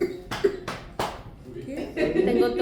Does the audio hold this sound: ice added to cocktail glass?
no